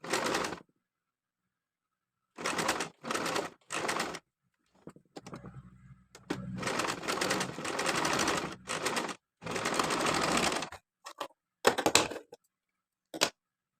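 A sewing machine stitches in a round path around the neck piece of a simple frock, sounding in several separate loud bursts with short pauses between them and no talking.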